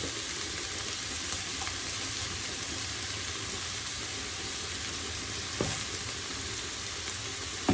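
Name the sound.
frying chickpeas in pan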